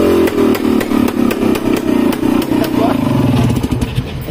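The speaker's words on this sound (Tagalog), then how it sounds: "Ito po kasi walang muffler, kaya rekta po to lang." A Honda 125 motorcycle with no muffler revs loudly and raw, its engine note rising and falling in repeated throttle bursts with a rattly, popping exhaust throughout.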